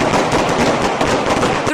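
Rapid overlapping gunshots at a firearms training session, a dense, loud crackle of fire sustained throughout with no pauses, ending abruptly.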